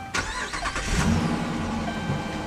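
A 5.7-litre Hemi V8 in a 2012 Dodge Durango R/T cranks and fires with a loud burst, then settles into a deep, steady idle rumble, close and alone.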